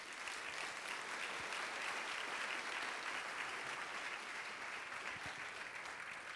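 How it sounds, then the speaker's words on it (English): Sustained audience applause at a corporate leadership event, a dense, even wash of many hands clapping throughout, fairly distant and unbroken. "Mike, let's give him a big round of applause."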